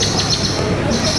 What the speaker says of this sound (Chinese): 只听到鸟叫